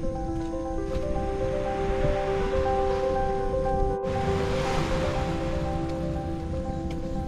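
Waves wash continuously onto a coastal beach of sand, pebbles and shells, a steady broad roar with a swelling surge midway, heard alone at moderate loudness.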